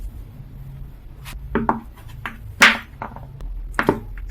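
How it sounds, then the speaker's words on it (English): Orange peel soap being chopped with a knife on a board, a handful of irregular sharp chopping knocks and cuts against quiet background, close and unaccompanied by talk. "So let me chop this."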